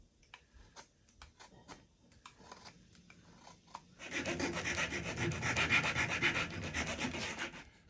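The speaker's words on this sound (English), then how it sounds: "I'm going to use this as the perch, and I'll need to whittle it down a little bit." A wooden scrap piece being whittled down by hand into a perch for a hummingbird swing: a few faint scrapes and ticks, then a steady, close, rough rasping of blade on wood for the last few seconds.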